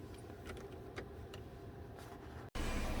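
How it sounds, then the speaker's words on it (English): A 2008 Hyundai 2.0 with a misfire fault on a road test, heard from inside the car as a steady engine drone and road rumble with a few light rattles, cutting off abruptly near the end. "I'm going to take it for another short road test"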